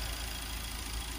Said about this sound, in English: while that engine's warming up a little bit